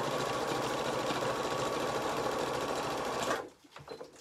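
Sewing machine fitted with a patchwork foot stitching fabric binding on a hot water bottle cover, a loud steady mechanical whirr running continuously before stopping abruptly near the end, leaving faint handling noise.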